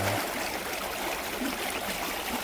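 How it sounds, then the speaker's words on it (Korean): Flowing stream water rushes steadily and fairly close, a continuous even wash of burbling noise with no voices. "오늘도 물소리를 들으면서 아침을 시작합니다."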